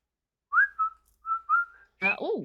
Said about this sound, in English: Whistling is important for a good march